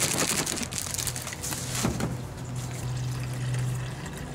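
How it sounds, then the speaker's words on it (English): Water gushes and splashes as it pours into a sprayer tank to mix a liquid aeration treatment, a continuous close rushing sound with some surging and a low pump-like hum. "I add about half of water, then pour in the product, and then fill up the rest."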